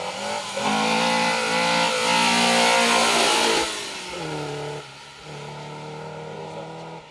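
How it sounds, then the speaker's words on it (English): A Volvo 244 rally car passes flat out on a forest rally stage, its engine loud and steady at high revs, then the note drops and fades as it goes by. "244 Volvo, no lift"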